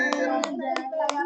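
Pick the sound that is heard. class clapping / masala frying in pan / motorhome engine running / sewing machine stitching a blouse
class clapping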